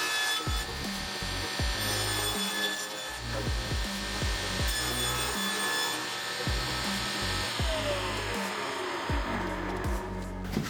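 A table saw cuts wood into strips with a continuous loud whine and rasp, punctuated by repeated bursts of deeper cutting as the blade passes through the board.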